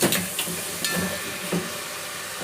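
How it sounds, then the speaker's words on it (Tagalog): Arroz caldo with egg sizzles and hisses steadily in a pan as it is sautéed, with a few louder stirring scrapes breaking through the close frying noise, and no one speaking. "igisa pa natin"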